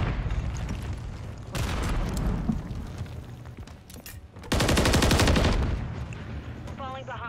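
Loud bursts of gunfire in Call of Duty, including shotgun blasts, come in rapid clusters with a dense, sustained volley near the middle, set against constant game battle noise.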